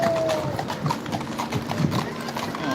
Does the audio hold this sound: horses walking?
yes